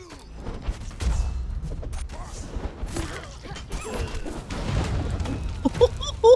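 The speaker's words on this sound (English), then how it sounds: "I do love the explosions though" Explosions in the video game Conan Exiles crash and boom repeatedly over a dense, busy mix of game clatter and thuds, with rapid bursts and impacts throughout.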